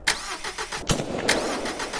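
A car engine cranks over and over without catching, a rough mid-pitched churning broken by a few louder surges, close and continuous for two seconds with no talking.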